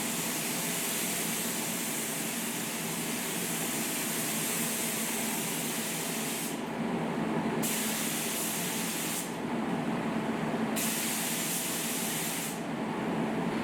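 Black base coat paint is sprayed onto an Austin Mini roof, a continuous close spray-gun hiss with brief pauses between passes.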